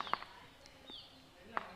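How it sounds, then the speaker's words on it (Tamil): A few faint, sharp bird chirps ring out, spaced well apart, over a quiet outdoor background. "கேட்குதா உங்களுக்கு அந்த குருவிகளோட சத்தம்"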